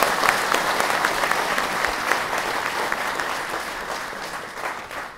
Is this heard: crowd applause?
yes